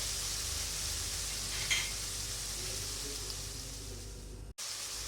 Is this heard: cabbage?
yes